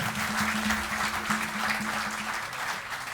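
Concert audience applause after a piece, a sustained wash of many hands clapping, with a low steady tone running underneath through most of it.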